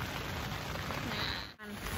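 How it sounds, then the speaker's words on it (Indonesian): Light rain patters on a tent at a foggy campsite in Megamendung, Bogor. It is a soft, even hiss that runs continuously with a brief dip near the end, and no voices. "Tuh, hujan. Kabut. Tuh. Hujannya lumayan rintik."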